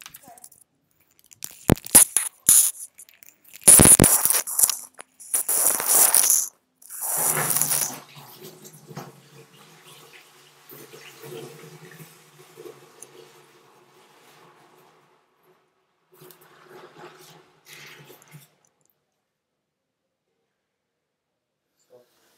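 Home brew beer mix from a Mexican cerveza Corona kit goes from a pot into a fermenter: a few loud knocks and clanks of handling, then a long, steadier wash of liquid that gradually fades, with no talking.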